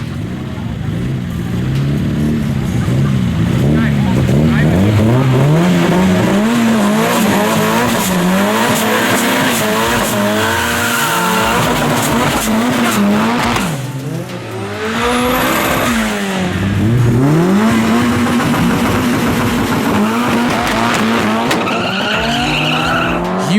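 A turbocharged SR20-powered Datsun and a Mazda FE turbo Corolla drag race in an underground event, with loud, continuous engine roar and long tire squeals that rise and fall across the run.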